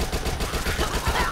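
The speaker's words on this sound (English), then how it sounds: "SMG." A submachine gun in the zombie shooter Dead Nation fires a fast, even burst of rapid shots, loud and close, lasting just over a second.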